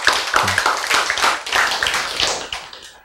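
Hand clapping in a church service, a quick run of close, sharp claps in an uneven rhythm lasting about three seconds.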